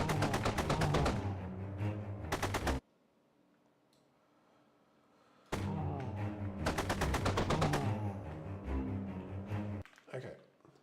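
Rapid automatic AK rifle fire from a zombie video game, loud bursts of dense repeated shots in two long volleys separated by a near-silent gap, trailing off at the end.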